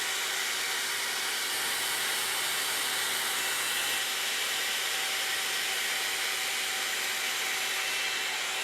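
A Le Volume 60 mm 2-in-1 volumizing brush dryer runs continuously for the whole stretch, a loud, steady, close airy whine with a faint tonal hum and no talking.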